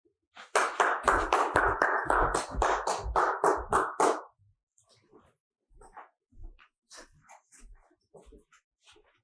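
A person claps their hands in a quick, loud run of about ten claps while walking backwards during a dog relaxation exercise, then gives way to softer scattered taps and steps.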